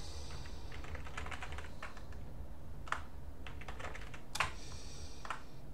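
Someone types a password on a computer keyboard at a Linux login screen, with quick, close, irregular key clicks in short bursts and a few sharper strokes over a steady low hum.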